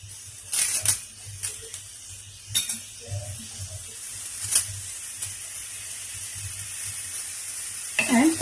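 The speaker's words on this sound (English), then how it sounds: "put the curry leaves also." Curry leaves sizzle in hot oil while making mackerel fish curry in coconut milk, a soft crackling hiss with a few brief louder spits and pops scattered through, ending in a sharper burst.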